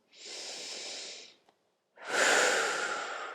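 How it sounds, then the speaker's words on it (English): A long, deep breath drawn in during a seated upper-body workout, airy and close, followed by a brief pause and a second, louder, fuller breath sound. "So take a nice deep breath in."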